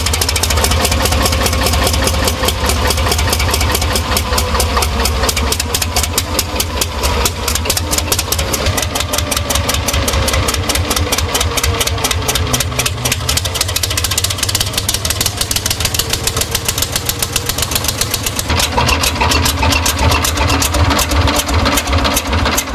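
A 1950s Maybach MD 160 marine diesel, a 4.5-liter three-cylinder with 18 valves and 150 horsepower, running steadily: a loud, continuous, rhythmic clatter that holds throughout.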